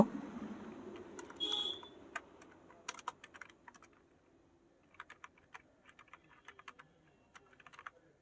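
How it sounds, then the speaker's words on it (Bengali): Keys clatter on a computer keyboard as a full name is typed in English into an online old-age allowance application form, in quiet irregular bursts with pauses, plus a brief high electronic beep early on; no talk. "আমি সম্পূর্ণ নাম ইংরেজিতে লিখব"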